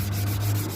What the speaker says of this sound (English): Start with any position on the lamp you like and just start sanding